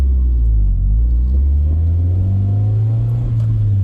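A steady, close engine rumble at low revs from a stock first-generation Honda CR-V with a Yonaka catback exhaust while reversing, deep and continuous, with a slight rise in pitch toward the end and no talking.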